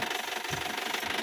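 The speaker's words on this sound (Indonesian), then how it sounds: "suara mesin" A car engine fitted with an extra 140-amp alternator idles steadily with a low rumbling hum and faint mechanical knocking, constant and close, no voices.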